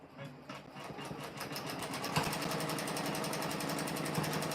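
A Janome M17 sewing machine stitches an in-the-hoop square stitch to hold quilt fabric onto backing, running as a steady rapid mechanical chatter that starts softly and settles into a loud, continuous whir for the rest of the stretch.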